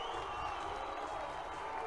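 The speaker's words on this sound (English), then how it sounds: "The crowd's on their feet. You can hear them." A stadium crowd roars and cheers after Namibia scores a try in a rugby warm-up match, a broad, steady wash of distant noise with a faint commentator voice underneath.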